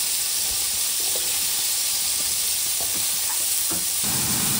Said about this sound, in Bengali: এখন ভাজা করছে আলু